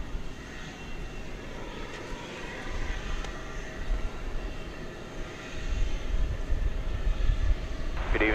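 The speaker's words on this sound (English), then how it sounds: "This A300 is off to Ontario, California, flight 9751." A 21-year-old Airbus A300 departs DFW Airport at night, a steady broadband jet roar that swells and grows louder toward the end, with no voices.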